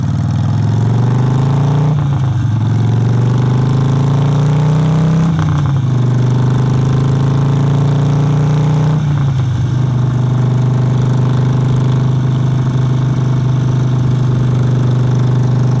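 A motorcycle engine drones steadily while riding through a small South Carolina town, loud and close throughout, its pitch rising and dipping with a few gear-change shifts and no voices.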